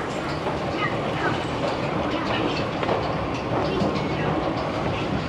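Chengdu metro line 18 train running with a steady, loud broadband rumble and faint rhythmic clatter of wheels on track throughout, close and continuous.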